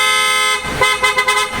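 A PIAA OTO-style aftermarket car horn blares in a steady loud tone, then pulses in several short honks, very close with no talking.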